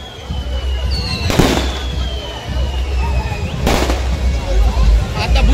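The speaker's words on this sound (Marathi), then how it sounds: "आई माऊलीच्या दरबारात फटाक्यांचा पाऊस जोरदार" Firecrackers burst in two sharp broadband volleys near 1.3 and 3.7 seconds at a village temple festival as the palanquin procession sets out, over a constant crowd murmur with faint tonal whistles in between.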